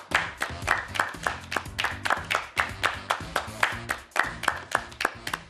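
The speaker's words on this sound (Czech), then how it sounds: "Kluci v režii, dejte tam ještě víc toho potlesku." Applause fed in from a control room at a TV fashion show, a steady fairly quiet crowd clapping with rhythmic bursts that rise and fall throughout, no talk over it.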